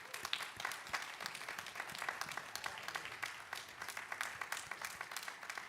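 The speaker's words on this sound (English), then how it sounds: "So let's give them, these amazing people in your lives, a heartfelt round of applause." Steady applause from a large crowd at a university commencement ceremony, dense and continuous, heard from a distance at a fairly quiet level.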